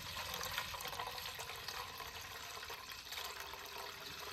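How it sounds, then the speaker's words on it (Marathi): Fresh milk pours through a strainer into a pot, making a steady, even splashing stream that runs unbroken from start to finish at moderate volume. "आपल्याला हे दूध गाळून घ्यायचे।"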